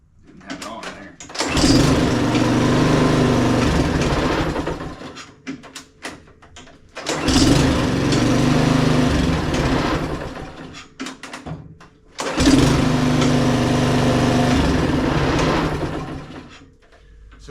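A Honda push mower whose starter cord snaps back hard is pull-started three times. Each pull catches into a loud, steady engine run of several seconds, with brief gaps between the runs.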